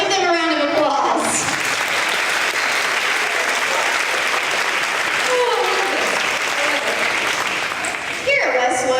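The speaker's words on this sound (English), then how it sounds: "let's give them a round of applause." Audience applause at a first grade awards event fills the room in a dense, loud, sustained wash of clapping from many people, with voices rising briefly at the start and again near the end.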